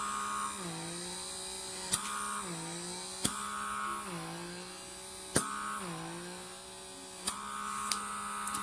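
A Comedo pore vacuum running on high suction power gives a steady motor whir with a shifting drone as the head moves, broken by a few sharp clicks and pops.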